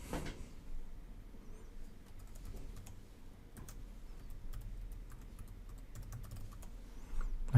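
A password is typed quietly on a computer keyboard. The keystrokes come in soft, irregular bursts with brief pauses, close but faint.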